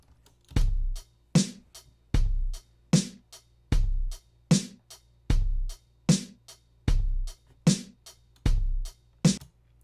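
A looped drum pattern programmed in BandLab repeats steadily, with punchy low kicks and bright snare or hat hits recurring in an even rhythm, loud and close with no voices.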